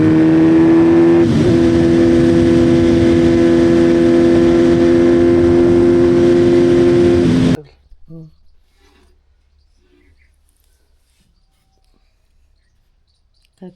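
A super bike engine idles loud and steady with a harsh, buzzing tone for about seven seconds, then cuts off abruptly, leaving faint clicks and quiet room noise.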